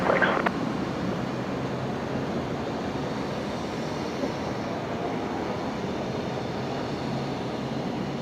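A jet aircraft taking off from runway 01 right at Brisbane Airport at night, a steady broad roar of engine noise holding level throughout, fairly distant, with a brief click near the start.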